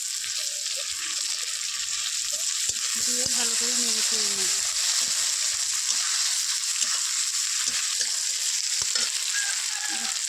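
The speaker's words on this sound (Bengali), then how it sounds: "ভালো করে লাল লাল করে ভেজে নেব পেঁয়াজগুলো" Chopped onions frying in oil, with chopped tomatoes to follow: a steady, dense sizzle throughout, with faint stirring taps and a faint voice in the background.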